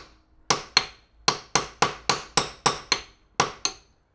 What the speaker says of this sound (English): So the thing that Stephan's hammering at, that's just the sort of safety thing, so that it doesn't open up by itself